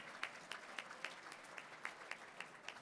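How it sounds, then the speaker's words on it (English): Applause from an audience at an evening celebration and fundraiser, a steady wash of clapping with a few sharper claps standing out at regular intervals, fairly faint and continuous with no voices over it. "Keep the clapping going."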